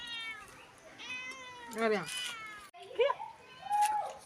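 A cat meows several times at close range, with drawn-out cries between short gaps, and a voice speaks nearby.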